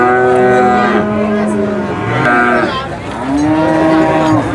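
Cattle at the Purwantoro cattle market lowing loudly and close, several long overlapping moos one after another over a busy market background.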